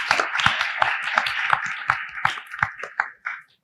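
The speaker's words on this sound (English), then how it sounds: "So let's give them a round of applause." At a conservation book event, a small group claps in a loose, sparse rhythm of distinct hand strikes, close by and thinning out toward the end.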